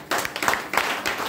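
An audience claps together for a short burst, a dense patter of many hands that stays steady and fairly loud throughout with no voices over it.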